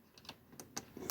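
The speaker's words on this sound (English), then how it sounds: "And now everything I type on a MegaBee will be seen" A few quick, light key presses on a MegaBee keyboard, three or four soft clicks in about a second, quiet and close in a still room.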